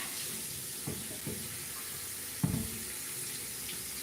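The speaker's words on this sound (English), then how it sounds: "after I wash this cutting board" Water from a running kitchen tap splashing over a cutting board being washed, a steady close hiss with a few brief clatters and splashes as the board is handled.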